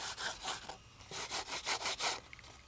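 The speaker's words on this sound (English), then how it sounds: "Just brushing that ink straight over the top to bring that embossing out." Memento ink is brushed over an embossed card in a run of quick, close, rhythmic scratchy strokes, each a short rasping swish. A brief pause breaks the run before the strokes resume.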